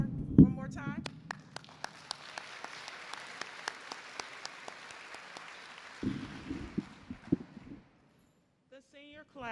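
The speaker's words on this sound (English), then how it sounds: "give Judge Pinky Carr a round of applause one more time" Applause at a high school graduation ceremony: a crowd claps steadily for about eight seconds, dense and sustained with sharper individual claps, fading out near the end as a voice begins to speak.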